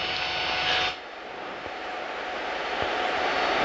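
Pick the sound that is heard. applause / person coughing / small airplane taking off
small airplane taking off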